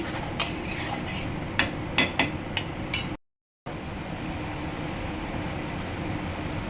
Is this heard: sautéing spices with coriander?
yes